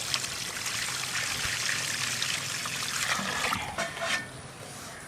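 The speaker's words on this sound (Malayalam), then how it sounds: "ഒരു 3 വെള്ളം നല്ല നീറ്റായി കഴുകാം." Tap water runs and splashes steadily while raw chicken is rinsed in a kitchen, a close, continuous trickling rush that breaks up into uneven splashes and then eases off toward the end.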